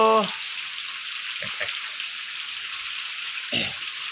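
Steady rain falls in a soft, even hiss through the whole stretch, with a couple of short voice fragments breaking in.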